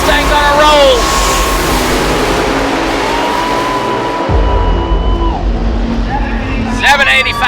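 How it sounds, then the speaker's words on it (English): A Ford Mustang drag car roars down the strip with loud engine noise, a rising whine and a sharp shift in tone midway, while crowd chatter and an announcer's voice carry over the top. "The Ford Mustang's on a roll."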